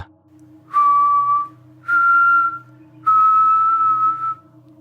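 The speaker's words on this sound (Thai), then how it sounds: "เสียงผิวปากดังเป็นโน้ตสามตัว" A person whistles a simple three-note tune alone in a forest: three clear, sustained pure notes, each about a second long, separated by short pauses, with a steady low hum underneath.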